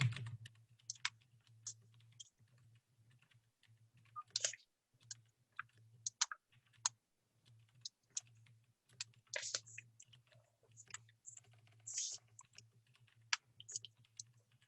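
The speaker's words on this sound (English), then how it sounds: "somebody I think in their typing or something's making noise" Typing on a computer keyboard, picked up as background noise on an open microphone during an online human anatomy lecture; irregular bursts of quick clicks and key taps over a steady low hum, with no one talking.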